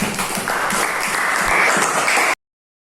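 A class applauds in a steady burst of clapping for about two seconds, which stops abruptly.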